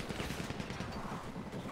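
Rapid gunfire from many players in the online game FiveM, a steady dense rattle of shots throughout at moderate level without talk.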